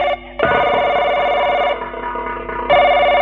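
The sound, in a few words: telephone ringing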